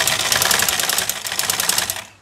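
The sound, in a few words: black sewing machine running during adjustment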